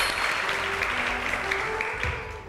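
Audience applause fills a talk-show studio, many hands clapping in a steady, dense wash that holds at an even level throughout without voices.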